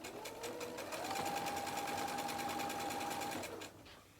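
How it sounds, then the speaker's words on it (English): A sewing machine stitches quilt binding in one steady, fast mechanical whir lasting about three seconds, then slows and stops. The motor hum sits under the needle's rapid chatter, and no one speaks. "I'll just take the next one and I'll just keep sewing them"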